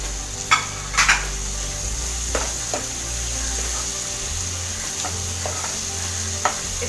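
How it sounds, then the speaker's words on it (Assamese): Chicken masala with chopped tomatoes and potato fries on a high flame, giving a steady close sizzle with scattered clacks of a spoon stirring against the pan. "এতিয়া বিলাহীখিনি ভালকৈ সিজোৱালৈকে আমি এইখিনি ফ্ৰাই কৰি থাকিম।"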